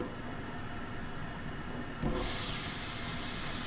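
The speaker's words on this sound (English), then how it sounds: "So, see the steam here?" Steam hisses from a covered pan of sautéed vegetables such as green beans and broccoli, a steady broadband hiss that jumps louder and brighter about halfway through as the lid is lifted.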